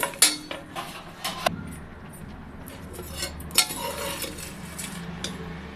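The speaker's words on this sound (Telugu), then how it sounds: "కొంచెం గోల్డెన్ కలరు వచ్చే వరకు వేయించుకోండి" Spices being dry-fried in a pan while a spoon stirs, making sharp metallic scrapes and clinks against the pan that come in uneven clusters over a quiet background.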